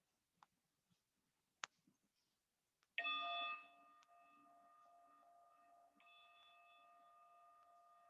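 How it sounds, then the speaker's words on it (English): A single meditation bell strike rings out after a few faint clicks, its clear tone sustaining and slowly fading over several seconds, calm and fairly quiet. "even as the bell is sounding"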